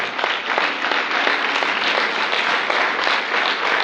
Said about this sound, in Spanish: aplaudo al Señor